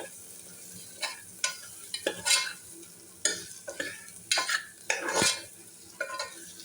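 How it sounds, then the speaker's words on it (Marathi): A masala paste sautés in hot oil in a pan, giving a steady soft sizzle broken by repeated scraping strokes and stirring bursts, close and moderately loud. "आता हे तेल सुटेपर्यंत चांगलं असं वाटण आपलं मी परतून घेणार आहे"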